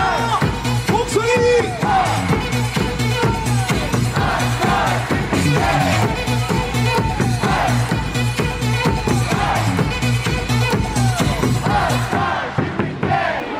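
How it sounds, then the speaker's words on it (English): A baseball stadium crowd at a 1999 Chicago White Sox versus Milwaukee Brewers game cheers and whoops in a frenzy, a loud, dense, continuous roar with shouting voices throughout. "The crowd is in a frenzy."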